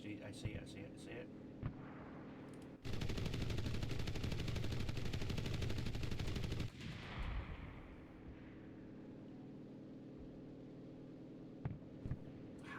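In the video game Enlisted, a long, dense burst of automatic gunfire is aimed at a T-70 tank and lasts about four seconds. Quieter scattered shots and a low rumbling hum come before and after it.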